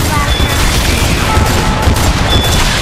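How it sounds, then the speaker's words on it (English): A wall being smashed apart in the video game Lollipop Chainsaw RePOP: a dense, loud barrage of rapid booming impacts that carries on throughout the whole clip. "You're destroying the wall!"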